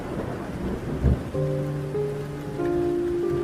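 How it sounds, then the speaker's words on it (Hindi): Rain pours steadily while a low rumble of thunder rolls in, followed by sustained tones like a musical drone layered over the storm. "बारिश अब और भी तेज हो चुकी थी। बादल बहुत जोर से गरज रहे थे।"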